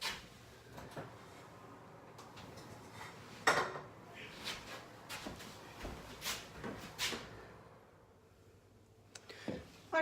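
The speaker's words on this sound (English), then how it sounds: "let's pop those ones into the oven as well" Lemon meringue cupcakes slid into a home oven amid scattered kitchen clatter: tray scrapes, a clunk of the oven door and light metallic knocks, moderately close with quiet gaps between.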